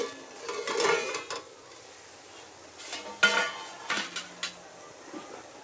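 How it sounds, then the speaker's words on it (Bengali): A metal lid lifted off a pot after idli batter has been steamed without a steamer: a few close clanks and scrapes of metal on metal, between quieter pauses. "এবার তুলে নেব ঢাকনাটা"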